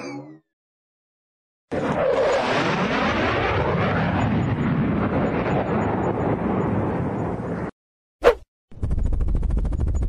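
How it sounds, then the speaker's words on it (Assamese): A cartoon jet plane and helicopter roar overhead in a loud, sustained engine wash that swells after a silent start, then cuts out, followed by a sharp burst and a low rumble. "আমাক মাৰিবলৈ জেট প্লেন আহিছে আৰু হেলিকপ্টাৰো আহিছে ওপৰেদি"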